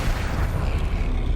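A Flipendo spell striking in Hogwarts Legacy, a loud deep thump and boom with a heavy low rumble that holds steadily across the brief moment.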